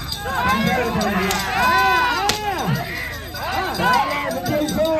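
Village-level bullock cart pulling contest at Kyathur, with a loud crowd shouting and cheering continuously, voices rising and falling in overlapping whoops close by.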